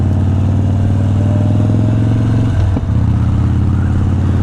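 A 2017 Harley-Davidson Street Bob with a 103 engine idles loud and close in a steady, rumbling, lumpy beat, then gives one brief blip of revs before settling back to idle.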